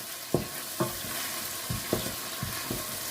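Tomato cooking in oil with a splash of water for a Senegalese chili sauce, giving a steady close sizzle broken by several sharp scrapes of a spoon against the pan at irregular intervals.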